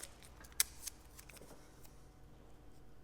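Adhesive tape pulled from a roll and pressed onto an airbrush stencil, a quiet sharp rip followed by faint rubbing and small taps close by.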